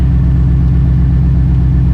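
A truck engine idles after a long time without being started, a loud, steady low rumble with an even pulsing throb close by and no talk over it.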